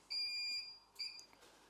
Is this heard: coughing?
no